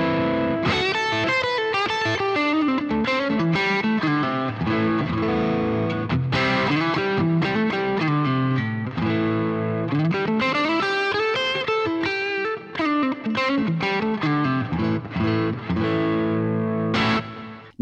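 Electric guitar runs through a Boss GT-1000 amp model set for breakup tone, with the presence raised about halfway. It plays continuous, loud overdriven chords and melodic runs, with no voices and a sustained, gritty texture throughout.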